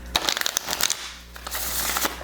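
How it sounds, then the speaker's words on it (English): A tarot deck is shuffled by hand, giving quick bursts of crisp riffling and card slaps in the first second, then a softer second run of shuffling after a short pause, close and clear. "Let me get a couple of shuffles on this one."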